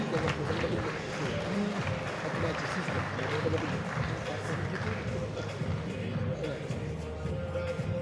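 An audience at a Senegalese and African TV series awards ceremony applauds the jury members: a continuous patter of clapping under a presenter's talking, lasting several seconds at even strength.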